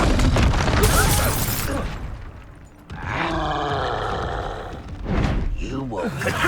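A Confringo blasting-spell explosion in Hogwarts Legacy erupts as a loud, booming burst with a rumbling tail, among other crashing combat effects and shouted spell names.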